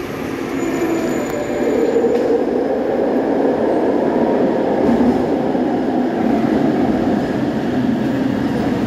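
A light rail train rumbles steadily close by, a continuous loud rolling drone with faint high squeals from the wheels.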